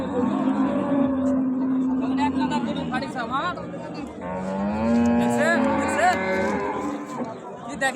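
Dairy cows and calves at a cattle market in Raniganj give long, loud moos, one after another, close by, over crowd chatter and people talking.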